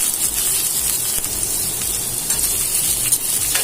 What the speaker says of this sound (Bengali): তেলটা গরম হয়েছে এখন পেঁয়াজ কুচি দিয়ে দিলাম